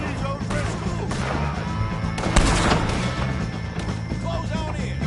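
Loud gunfire against O'Driscoll gang members in Red Dead Redemption 2, a dense run of shots with a sharper crash near the middle, while a voice calls out over the shooting.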